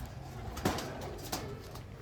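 Original Andhra Lambadi pigeons cooing softly nearby, two brief low coos about half a second apart over a quiet room background.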